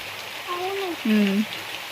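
A steady rushing hiss of a stream flowing in a park fills the background while a nearby voice speaks briefly over it.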